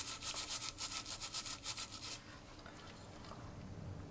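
A copper scouring ball rubs an oven caster in quick, rhythmic back-and-forth strokes, about a dozen close scratchy passes. The scrubbing stops halfway through and leaves faint room noise.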